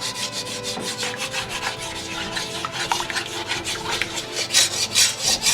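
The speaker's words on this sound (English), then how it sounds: "Scrape your pan, get all those flavors off the pan and into that flour." Close scraping and rubbing as a utensil works frying pan drippings into flour for gravy, a continuous gritty rasp with uneven strokes, with no talking.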